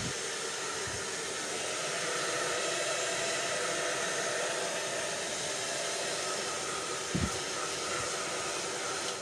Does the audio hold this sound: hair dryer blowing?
yes